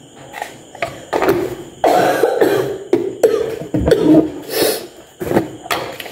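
Repeated harsh coughs in a close-up fit, several bursts with short gaps between them, loud and raspy.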